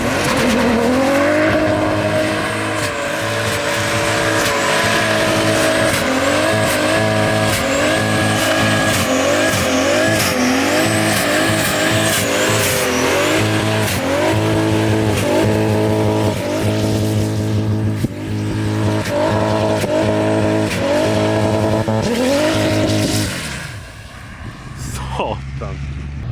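Sleeper BMW fitted with a Mercedes engine roaring loudly past at close range, its engine note rising and falling with squealing tires, ending in a brief fade, with voices talking over it.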